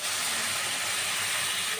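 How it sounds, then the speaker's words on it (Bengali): Water boiling hard in a pan over spices already fried with tomato, cumin, coriander and turmeric for a mustard fish curry, a dense, loud, steady hiss close by and unbroken for the whole moment, with no voices. "তো জলটা আমার ফুটছে"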